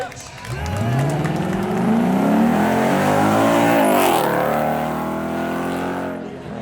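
A supercar does a burnout at a Beaulieu supercar event, its engine revving hard and rising in pitch over several seconds, loud and sustained with tyre noise, before easing off near the end.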